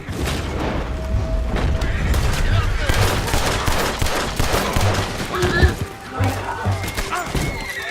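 Gunfire erupts in Red Dead Redemption 2 during a standoff with United States Army soldiers, with dense, repeated shots and booms layered over a busy game soundscape that includes horses.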